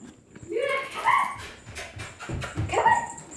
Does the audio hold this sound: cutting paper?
no